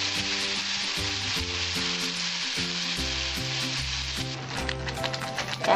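Ridge gourd peel paste sizzles and spits in a hot pan with golden fried onions, a steady close frying hiss with occasional stirring knocks.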